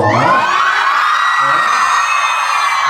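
A crowd of boys and girls shouts, whoops and yells at a Sankranti festival celebration at a junior college. The voices form a loud, continuous, close-up din throughout, with rising cries near the start.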